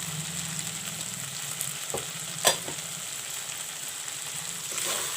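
Masala of jeera, dhania, chili and turmeric powders frying in a pan for chicken curry, a steady moderate sizzle with a few brief stirring clicks and scrapes.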